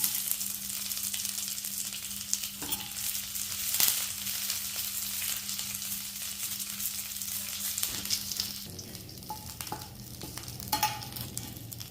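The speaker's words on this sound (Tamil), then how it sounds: "நல்லா எண்ணெய் ஊற்றி வறுக்கிறோம்." Two handfuls of curry leaves frying in oil in a pan, a continuous close sizzle and crackle with intermittent stirring scrapes and a few knocks of the spoon.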